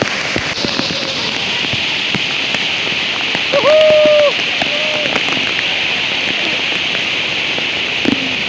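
Heavy monsoon rain pours at Raigad fort as a loud, dense, unbroken hiss, with a few short tonal calls briefly rising over it midway.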